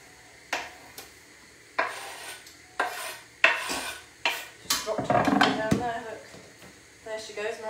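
Chopped leek and celery go into a pan, with clattering utensil scrapes, knocks against the pan and a soft sizzle in a home kitchen, while a person talks between the sounds.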